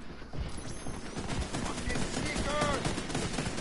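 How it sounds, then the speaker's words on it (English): Rapid bursts of gunfire in the video game The Division 2 crackle beneath a busy game soundscape, moderately loud and mixed with other game effects. "Somebody's shooting at me."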